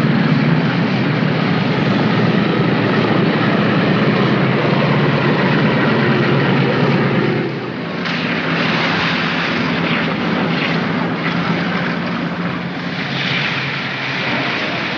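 A propeller airplane rolls along a runway toward a parking area after landing, its engine drone steady and fairly loud throughout, easing slightly partway through before holding on.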